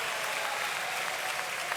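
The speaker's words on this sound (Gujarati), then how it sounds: "હાથ ઊંચા કરીને તાળી પાડવી પડે" A crowd claps continuously at a Vadtal Mahotsav temple festival discourse, a dense, even roar of many hands sustained from start to finish, fairly loud, with no talking over it.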